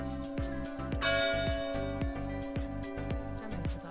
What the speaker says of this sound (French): Si le carillon me laisse parler.